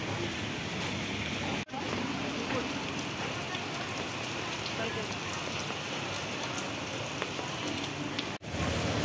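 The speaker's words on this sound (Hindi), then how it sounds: "तभी रास्ते में बारिश आ गया।" Heavy rain pours onto a city street in front of a hotel in Bangalore, a dense, constant hiss of drops and splashes filling the scene, with two brief dips where the sound cuts out.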